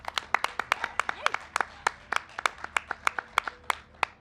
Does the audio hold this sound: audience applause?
yes